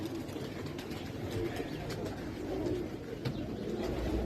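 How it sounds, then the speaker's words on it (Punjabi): Pigeons coo softly and repeatedly against a steady bed of ambient noise, with several birds calling at once from a short distance. "ਬਹੁਤ ਜ਼ਿਆਦਾ ਕੂਤਰ ਨੇ ਬਾਈ ਕੋਈ ਗਿਣਤੀ ਹੈ ਨਹੀਂ ਇੱਥੇ ਕੂਤਰਾਂ ਦੀ ਇੰਨੇ ਕਿ ਜ਼ਿਆਦਾ ਕਬੂਤਰ ਨੇ"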